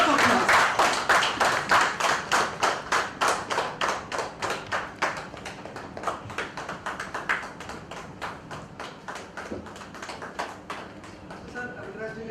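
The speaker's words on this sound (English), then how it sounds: "Give him a big round of applause." Audience at a university ceremony clapping for an honorary doctorate recipient, settling into loud rhythmic unison claps that gradually soften and thin out over about twelve seconds, with voices faintly beneath.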